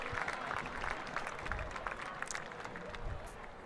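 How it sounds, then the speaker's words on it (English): A home crowd at a professional ultimate frisbee game in Minnesota cheers and claps continuously, a dense, steady wash of applause and shouting heard from a distance. "The crowd is really starting to get into this."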